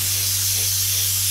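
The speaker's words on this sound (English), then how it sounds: "Maximum air pressure for this, okay? So all we're gonna do is spraying on a complete coat" An airbrush sprays a full coat of paint at maximum air pressure onto a Star Destroyer model, giving a steady, loud, close hiss with a low compressor hum underneath and no talking.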